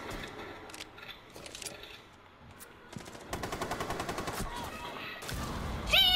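Rapid gunfire bursts in the video game Rainbow Six Siege sound under excited talk, with a dense automatic rattle building in the second half over the game's background noise.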